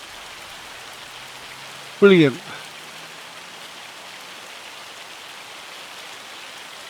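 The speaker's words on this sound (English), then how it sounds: "And here comes the hail." Hail falls in the Farming Simulator video game, a soft, steady patter of hiss in the background throughout, briefly interrupted by a single spoken word.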